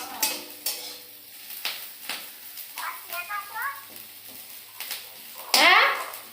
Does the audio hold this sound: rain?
no